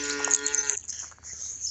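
A cow moos on a farm, a single loud harmonic bellow lasting under a second, then trailing off into steady background hiss and low rumble.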